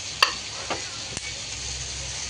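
Dried fish and ridge gourd curry being stirred in a pan, giving a few soft scraping clicks over a steady low sizzle, fairly faint and without talk.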